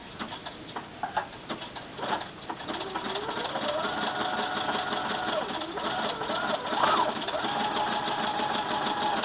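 A sewing machine zigzag stitching a sweatshirt, its motor whirring steadily at close range with faint rhythmic needle patter, while a voice talks over it.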